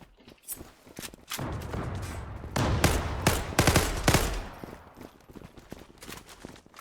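Rapid gunfire from an FN FAL Pro rifle in the online shooter game Zula, with sharp repeated shots in quick bursts, loud and close, with short gaps between volleys.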